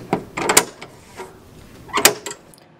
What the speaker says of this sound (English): Then go ahead and close the cover and lock the latches.